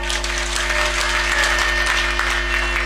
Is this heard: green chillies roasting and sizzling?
no